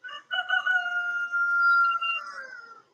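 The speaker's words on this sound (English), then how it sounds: "Rooster's going crazy this morning." A rooster crows in one long, clear, drawn-out call that rises and holds steady before trailing off, fairly close and loud against a quiet morning background.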